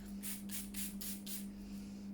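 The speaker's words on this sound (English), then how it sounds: "spray myself with these beautiful fresh water and essential oils" Five quick hisses from a small spray bottle misting water mixed with essential oils, evenly spaced and close, with a steady low electrical hum underneath.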